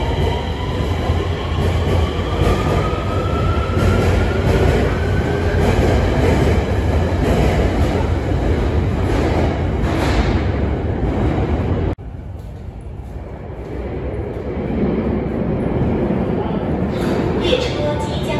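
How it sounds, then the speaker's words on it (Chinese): Beijing Subway Line 4 train pulling into Gongyixiqiao station, a loud sustained rumble of wheels and motors filling the platform, with a faint rising whine, before settling into a quieter hum as it stops. "列车即将到站，请小心列车与站台之间的空隙。"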